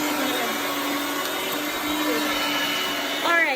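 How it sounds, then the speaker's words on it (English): A loud, steady electric grinder whirs continuously while mincing beef and bulgur with cumin, a constant high motorized drone with a brief rising surge near the end. "So now we are mincing it again with the cumin."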